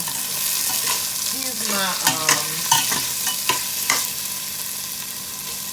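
Peppers and onions sizzle steadily in a pan while being stirred, with a spoon scraping and clacking in several sharp bursts; a voice speaks briefly over the cooking.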